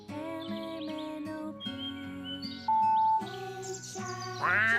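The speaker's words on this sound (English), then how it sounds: "No, it's a duck." A bright, synthetic-sounding duck quack stands out briefly amid a cheerful musical jingle, with a tinkling flourish at the end.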